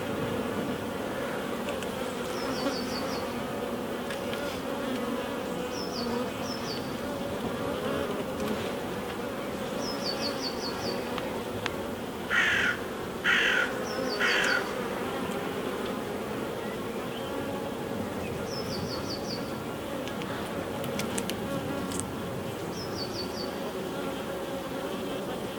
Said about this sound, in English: We've got quite a few bees in this hive